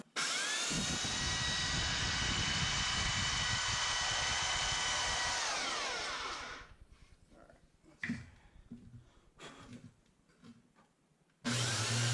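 A belt sander grinds down a metal part during a Mercedes C300 4matic bearing repair, giving a loud, continuous whine for about six seconds before it spins down. Clanks and handling noises follow in a quieter room.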